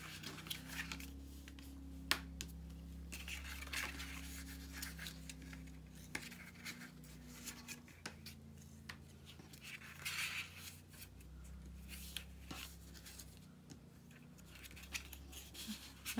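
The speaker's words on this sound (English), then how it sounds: "So what we need to do now is do all our folding and" Paper being folded and burnished for a handmade bonbon and gift card box, quiet close rubbing and soft creasing sounds with occasional sharp clicks over a low steady hum.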